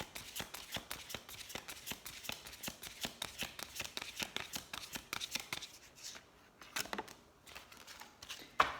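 A deck of oracle cards is riffled and shuffled by hand up close, a rapid run of crisp flapping bursts in a steady rhythm that grows sparser and breaks into a few separate slaps near the end.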